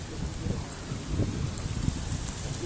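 Rain falling steadily outdoors, a dense continuous hiss with soft patter beneath it, moderately loud and even throughout, with no voices.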